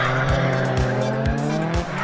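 A street-registered 430 hp race car slides out of the final corner of a circuit, its engine roaring loud and near with tires squealing, the note dropping in short regular dips as it powers away.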